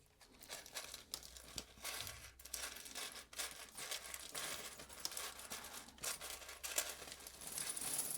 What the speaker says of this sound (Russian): И назад будем пробовать ее в пакетик высыпать